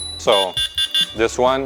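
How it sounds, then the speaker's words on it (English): An electric scooter accessory horn gives a series of short, evenly spaced electronic beeps, close and fairly loud, between stretches of nearby speech. "This is a horn. It's basically the same sound."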